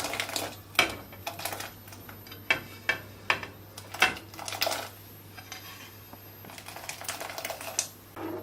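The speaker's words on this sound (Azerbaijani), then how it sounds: "Qaynar suyumuza düşbərələri belə əlavə eləyirik." Dushbara dumplings being dropped into a pot of boiling broth, heard as a series of sharp metallic clinks and taps of spoon against pot. They come in irregular bursts over a low steady hum, with no talk.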